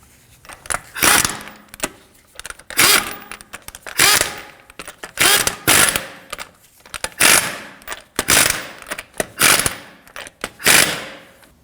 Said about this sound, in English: Snug down the lugs, but don't over tighten them because you're going to want to be able to torque them later.